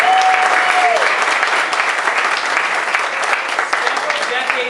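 A live audience breaks into steady, loud applause that fills the room for several seconds, dense clapping from many hands without a break.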